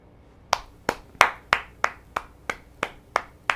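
Ten crisp claps in an even, steady rhythm, close and clear, with nothing else around them.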